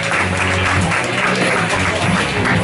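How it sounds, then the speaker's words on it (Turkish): A studio audience applauds on a Turkish talk show, with dense, steady clapping that fills the whole short stretch at a strong level. "Haydi bir alkış."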